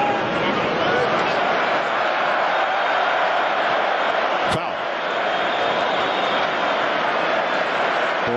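A large stadium crowd at an Arsenal football match roars in a steady, dense wash of noise, with a commentator talking over it.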